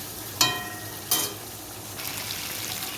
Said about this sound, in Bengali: আলুর সাথে ভালো করে মশলাটা কষিয়ে নেবো।